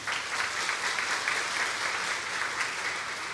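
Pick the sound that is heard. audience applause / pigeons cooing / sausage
audience applause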